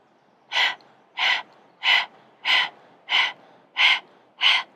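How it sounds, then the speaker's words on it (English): Seven quick, breathy exhales in a steady rhythm, each a short rasping puff like a panting dog, made with the tongue out during a Breath of Fire breathing exercise, close up with quiet pauses between. "let's just start by panting like a dog"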